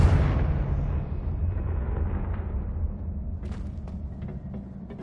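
A Confringo blasting curse in the video game Hogwarts Legacy explodes with a loud, booming burst that rolls into a long, fading rumble, with a few faint clicks near the end.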